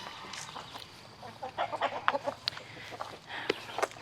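A broody black hen clucks in a series of short, scattered calls that grow busier midway, fairly close, with faint background noise and no talk.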